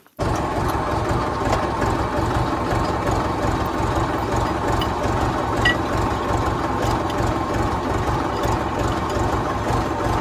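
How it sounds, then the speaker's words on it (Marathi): A tractor engine idles continuously at a low, even pulse, a steady rumble close by and loud throughout with no talking. "मी थोडा ट्रॅक्टर माग घेतो"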